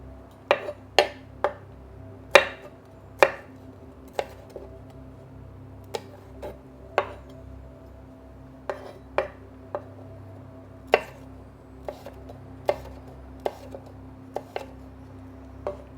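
A knife chops garlic slices on a cutting board in sharp, distinct knocks, irregular but steady through the stretch, close up with a quiet background and no talk.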